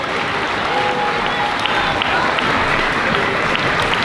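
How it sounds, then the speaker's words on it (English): A crowd in a school hall gives a steady round of applause at the Birchwood fifth grade moving up ceremony, dense, even clapping continuing throughout. "We have one last round of applause for Ms. Van Driesch and Ms. Federico's class"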